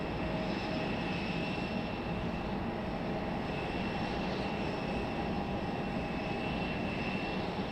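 An American Airlines Embraer E-175 taxis at Raleigh-Durham airport, its jet engines giving a steady, distant whine and roar that stays even throughout, with no voices.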